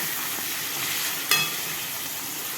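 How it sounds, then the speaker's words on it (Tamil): Steady, bright sizzle of chicken frying with sautéed onions in a pan, one short scrape of stirring partway through, close and constant with no talking. "இப்போ நம்ம இதில் இந்த சிக்கனை போட்டுருவோம். வெங்காயம் வதங்கினது போதும்."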